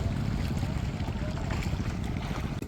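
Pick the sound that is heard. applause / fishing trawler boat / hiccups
fishing trawler boat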